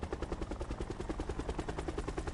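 Helicopter in Call of Duty Blackout, a steady rapid rotor chop pulsing evenly and loudly throughout, with no talk over it.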